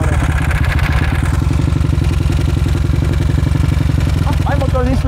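A small homemade engine idles fast and steady, a loud, even rapid chugging with a rattly clatter, close up and running alone throughout.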